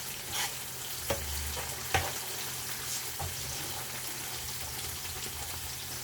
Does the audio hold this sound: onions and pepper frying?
yes